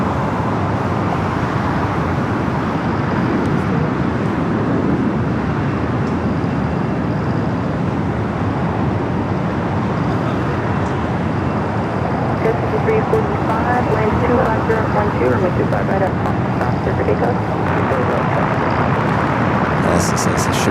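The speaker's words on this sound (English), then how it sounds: "We're doing that American 777. It started its taxi for a south side at takeoff." An American Airlines Boeing 777 taxis at LAX toward a south-side runway, heard as a steady, loud jet engine rumble and whine that holds constant throughout, with a faint higher tone rising near the end.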